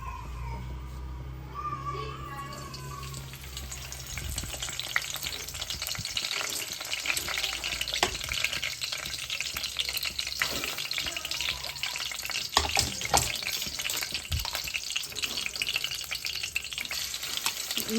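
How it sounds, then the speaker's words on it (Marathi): Spices crackle and sizzle as they are tempered in hot oil in a kadhai, a steady broadband frying hiss filling the clip with bursts of spattering and occasional stirring, no talk. "सो ते कढईमध्ये तेल तापवलंय. पहिल्यांदा आपण बेसिकच अशी फोडणी देणार आहे."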